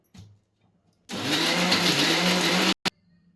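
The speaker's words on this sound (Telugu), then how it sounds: "వాటర్ వేసుకొని మిక్సీ పట్టుకుందాం" Mixer grinder whirring at high speed as it grinds coconut chutney with water, a loud steady motor roar of under two seconds that starts abruptly and stops just as sharply, with a brief knock before and after.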